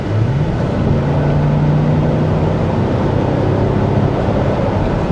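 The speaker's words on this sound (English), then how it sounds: "on the outside, the exhaust sounds great" An engine drones loudly from inside a Cadillac Escalade SUV as it accelerates, a rising low rumble with a steady muffled roar and no talking.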